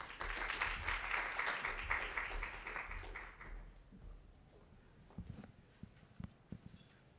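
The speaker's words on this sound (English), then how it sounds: "So let's give our panelists a round of applause." Applause from a conference audience for a panel of developer community speakers, a brief burst of clapping that dies away after a few seconds, leaving scattered faint claps and room noise.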